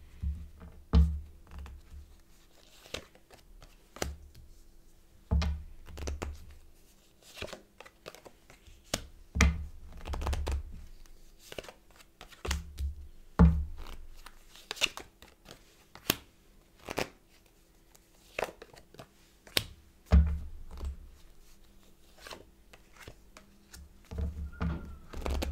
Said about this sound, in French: Je vais mettre toutes les cartes et ensuite je vous en parle.